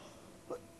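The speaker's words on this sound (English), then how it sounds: "Sorry, I just coughed." A single short, close cough bursts out abruptly at the very end, after near silence.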